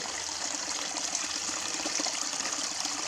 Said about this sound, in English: A nice little puddle going there. A nice little waterfall.